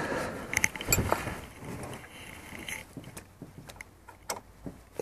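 A ratchet wrench loosening a bolt during a brake pad change, a loud burst of metallic clicks early on, then scattered lighter ticks and clanks at close range.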